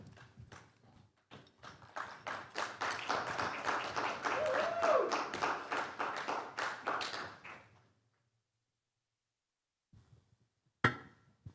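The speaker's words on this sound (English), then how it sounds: "Put your hands together in a massive round of applause, welcoming him on stage" An audience at a marketing conference on stage in Dubai applauds, a dense burst of clapping that swells and then fades out after several seconds, followed by silence and a few faint sounds.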